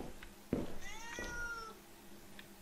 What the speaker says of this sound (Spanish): Ah, solamente fue un gato.